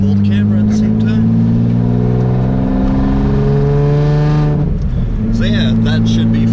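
A Nissan 300ZX with a manual transmission and a drive shaft that shakes at speed is driven, its engine giving a steady droning hum that shifts pitch partway through as the revs change, heard close from inside.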